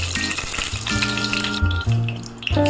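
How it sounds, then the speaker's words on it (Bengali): Whole cumin seeds sizzle in hot oil, a loud close crackling hiss that carries on steadily with slight shifts as the pan is stirred. "তেল গরম হয়ে গেছে, এবারে দিয়ে দিলাম গোটা জিরা।"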